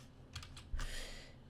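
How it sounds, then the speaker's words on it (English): Key presses on a computer keyboard during Photoshop work, a few quick clicks followed by one firmer tap, close and clear with no talk. "Now I'm going to press M on my keyboard"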